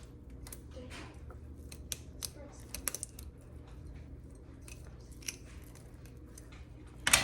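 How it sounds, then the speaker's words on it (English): Scissors or a knife snip the butcher's string off a smoked pork picnic shoulder, giving scattered sharp close clicks and snips over a low background hum, with a louder clatter at the end. "what we're gonna do is we're gonna cut the string off"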